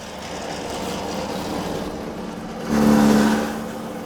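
A grass cutter fitted with a blade cut from a leaf spring, slicing through grass: a continuous motor whir that swells into a louder, strained burst near the end as the blade bites in.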